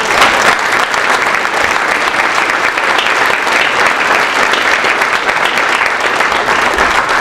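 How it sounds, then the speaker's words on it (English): Loud, sustained applause from a large audience, a dense wash of clapping that stays steady for the whole stretch without any speech. "So I think that deserves a round of applause."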